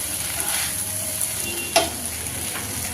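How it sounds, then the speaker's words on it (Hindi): A spoon stirs noodles into cooked vegetables in a hot pan. A steady sizzle runs throughout, with one sharp scrape or clink near the middle and no voices. "सारे नूडल्स को डालकर हम अच्छी तरीके से सब्जियों में इस तरीके से चम्मच से मिक्स कर लेते हैं"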